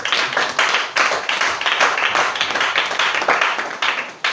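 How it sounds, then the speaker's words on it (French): A church congregation applauding for Andrea, with steady, fairly close clapping that swells and dips in rhythmic bursts for several seconds and no talk over it. "on va acclamer d'abord pour Andrea"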